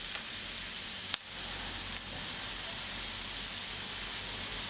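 Onions frying in a little oil in a pan for lamb karahi, a steady soft hiss of sizzling with a single sharp clink partway through, heard alone without talk.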